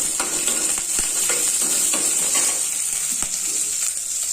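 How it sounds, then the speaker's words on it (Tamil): Onions, mustard seeds, cumin, chana dal, urad dal, a dried red chili and curry leaves fry in two spoons of oil, giving a steady bright sizzle, with a spoon scraping and stirring the pan in regular clicks. "2 ஸ்பூன் எண்ணெய் விட்டு கடுகு, சீரகம், கடலைப்பருப்பு, உளுந்தம்பருப்பு, ஒரு காஞ்ச மிளகாய், கருவேப்பிலை, வெங்காயம் எல்லாம் வதக்கிக்கலாம்"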